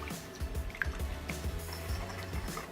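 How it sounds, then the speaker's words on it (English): Whisked sauce of dried parsley, oregano and basil poured over chicken breasts, giving soft wet drips and splatters in an irregular patter, close by with no talk. "So I'm just going to pour our sauce over the chicken breasts."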